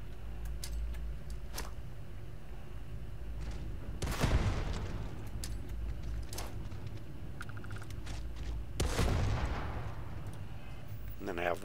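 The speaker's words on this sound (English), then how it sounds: "let's go with the frag grenades first" Frag grenades detonate in a video game, two loud broadband blasts several seconds apart amid scattered sharp gunshot cracks and a steady low background rumble.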